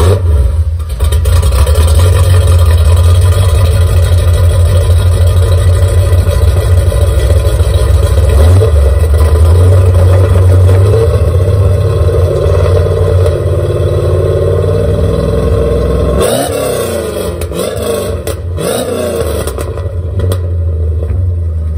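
A 1987 Chevrolet Corvette 5.7L TPI V8 with true dual exhaust idles with a steady low rumble, then revs sharply several times near the end, the exhaust barking loud and close.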